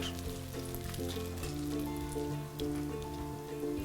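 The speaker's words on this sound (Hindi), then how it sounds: "तड़का डाल देते हैं ऊपर" Hot peanut-oil tempering (tadka) sizzles and crackles steadily as it is poured over freshly cut white dhokla, a busy, fairly close frying hiss with no talk.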